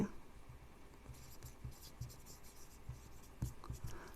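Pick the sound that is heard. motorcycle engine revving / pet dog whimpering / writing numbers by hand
writing numbers by hand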